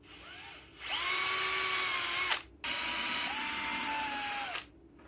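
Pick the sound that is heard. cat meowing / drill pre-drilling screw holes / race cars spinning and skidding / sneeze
drill pre-drilling screw holes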